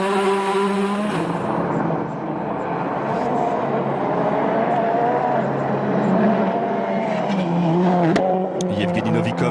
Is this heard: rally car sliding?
yes